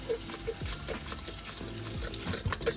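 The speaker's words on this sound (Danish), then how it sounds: "så gælder det om at få skyllet med koldt vand bagefter" Cold tap water runs and splashes while a sprayer is rinsed to flush out soap residue, an uneven close gurgle and trickle with small drips and sloshes.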